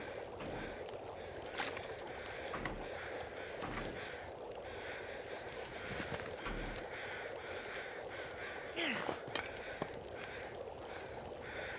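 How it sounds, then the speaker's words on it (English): Crows caw now and then in the snowy wilderness of the survival game The Long Dark, a few scattered calls standing out faintly over a steady windy ambience. "Those crows are noisy."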